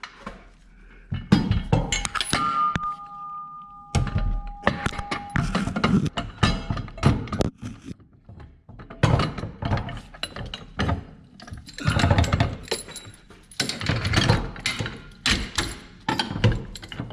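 Metal parts clink, ratchet and thump at close range while a tubular torque arm is installed on a Chevy Camaro: irregular bursts of tool and part noise separated by short pauses, with no one talking.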